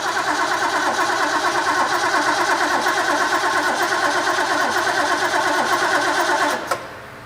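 A car engine is cranked repeatedly by its starter and may be flooded with fuel. It churns in a steady rhythmic whir for several seconds without catching, then stops with a short clunk. No one speaks.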